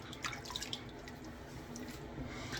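Water from a tap runs faintly as a straight razor blade is rinsed, with soft trickling and a few scattered drips and splashes.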